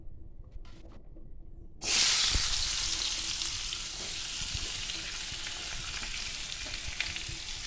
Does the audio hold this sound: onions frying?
yes